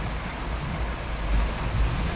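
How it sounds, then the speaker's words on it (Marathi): Heavy rain pours down in Badlapur, a dense, steady roar of hissing downpour with deep rumbling underneath, loud and continuous with no voices. "जाम पाऊस आहे"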